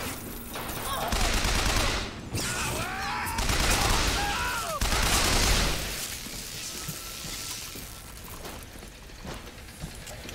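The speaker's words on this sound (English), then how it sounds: "giant ship shooting massive amounts of rockets at us" A giant airship launching barrages of rockets in Bioshock Infinite, with rapid bursts of explosive fire and whooshing streaks in loud waves that fade to scattered pops toward the end.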